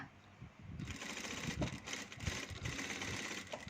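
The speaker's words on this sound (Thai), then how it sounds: "แล้วเราก็จะเย็บเฉพาะผ้าชิ้นด้านนอกค่ะ เย็บไปให้สุดวงเลยนะคะ" A home sewing machine runs steadily throughout, stitching the outer fabric layer of a donut-shaped hair tie (scrunchie) all the way around the ring, a close, continuous whirring drone with slight pace changes.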